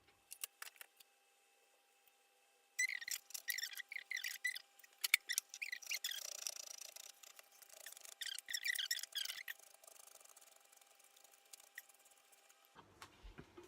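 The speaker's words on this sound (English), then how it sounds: "Just a quick tip when you're grating ginger" Fresh ginger being grated in a kitchen, bursts of close scratchy rasping strokes separated by quiet pauses.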